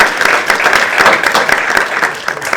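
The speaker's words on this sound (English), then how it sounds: "Please give them a warm round of applause." An audience at a live panel discussion applauds, a dense loud patter of many hands clapping continuously throughout, with no speech over it.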